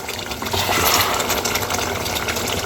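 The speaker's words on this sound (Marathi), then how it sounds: "आता हे वरचं पाणी टाकून द्यायचं आहे" Water gushes and splashes steadily as it is poured off cooked capsicum, a continuous, fairly loud wet rush lasting the whole moment.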